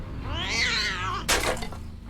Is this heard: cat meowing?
yes